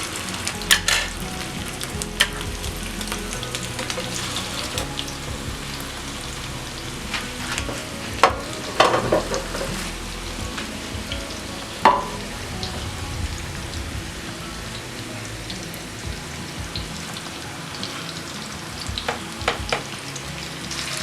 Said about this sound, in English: you add the meat to your pan and fry